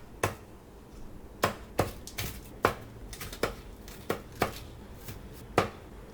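A knife chops scallion stalks and leaves on a cutting board, about a dozen sharp, separate knocks at an uneven pace, close and alone.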